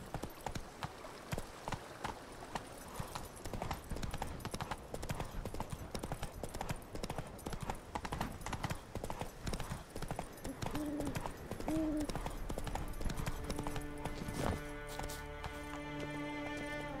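Hooves of Geralt's horse Roach clip-clop steadily through the woods in Witcher 3: Wild Hunt, a continuous loud trotting rhythm with a brief whinny near the middle and game music swelling toward the end.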